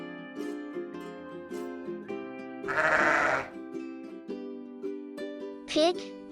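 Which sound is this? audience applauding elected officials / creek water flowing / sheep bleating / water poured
sheep bleating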